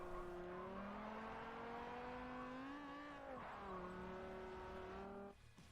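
Race car engine on the Yas Marina circuit, droning with a steady harmonic tone as it pulls out of a corner under light, feathered throttle, pitch easing briefly then holding before a drop near the end.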